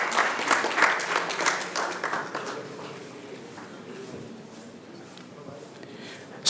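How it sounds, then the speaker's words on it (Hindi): Audience applause at a book launch event welcomes a guest. It begins fairly dense and gradually thins into lighter, scattered clapping that continues to the end. "जोरदार तालियों से स्वागत।"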